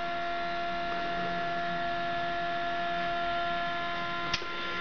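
A Muller motor spins on a bench power supply, giving a steady electrical hum with a constant tonal whine and one small click near the end, no talk.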